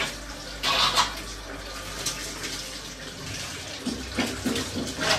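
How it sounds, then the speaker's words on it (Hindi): Running tap water splashes steadily while hands are washed in a home, a continuous wash of water with brief louder surges, close and with no talking. "हाथ भी धो ले रहे"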